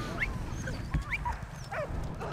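A dog in the WWI video game Soldats Inconnus: Mémoires de la Grande Guerre gives a few short yips and whimpers, fairly close, over a steady low game soundscape.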